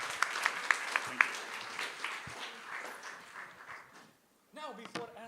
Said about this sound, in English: We can get our hands ready to give a big round of applause for Finergy